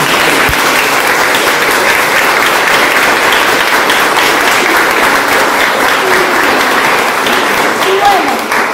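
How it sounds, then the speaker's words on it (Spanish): Loud, dense audience applause at a closing event of an adult summer program, continuous and even for several seconds, with voices mixed into the crowd noise. "aplaudamos"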